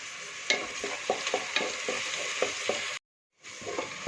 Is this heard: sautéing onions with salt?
yes